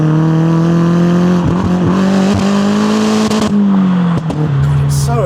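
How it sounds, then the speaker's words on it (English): A Volkswagen GTI tuned to about 300 hp with a turbocharged engine revving hard, loud and close, with a steady droning note that rises and dips through throttle blips and brief turbo whooshes, no talk. "You hear the whoosh of the turbo."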